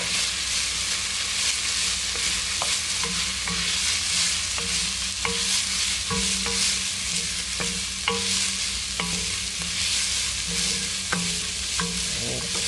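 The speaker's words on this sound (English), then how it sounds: "we're going to stir this for about a minute until you can smell the garlic" Minced garlic frying in a pan while being stirred for chicken and dumplings, a steady close sizzle with repeated spoon scrapes and taps, continuous and without talk.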